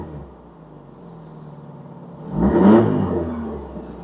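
An old Toyota Corolla 4WD engine, a barn find parked 16 years, runs at a low steady idle after starting, then swells briefly as it revs before settling back down; close and fairly loud.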